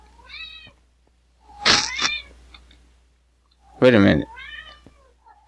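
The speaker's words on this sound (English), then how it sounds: "Goddamn cat, you hear that thing?" A cat meows several times in short, nasal calls spaced across the stretch, and a person speaks briefly between the meows.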